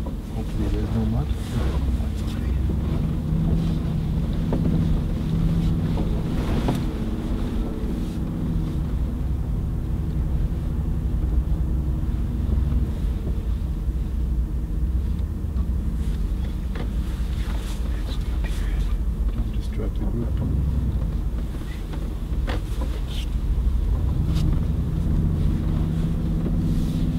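A Mercedes-Benz G500 4x4² drives off-road over rough ground, its engine a loud, steady low drone heard from inside the cabin, with wind buffeting, occasional knocks and someone talking over it.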